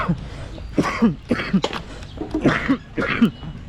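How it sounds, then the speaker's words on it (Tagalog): Repeated harsh coughing, about five or six short bursts in an uneven rhythm, close to the microphone. "Inuubo na naman tayo."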